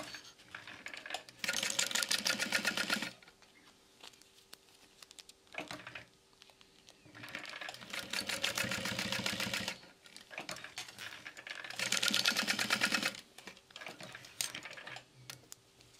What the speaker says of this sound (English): top stitch both finished sides